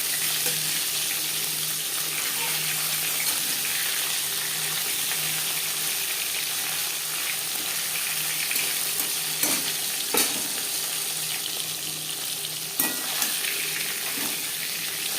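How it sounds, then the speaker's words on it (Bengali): Live koi fish fry lightly in a pan of hot oil, giving a steady, dense sizzle with crackles throughout and occasional sharper pops and spatters. "জ্যান্ত মাছ আমি একটু হালকা করেই ভেজে নেব"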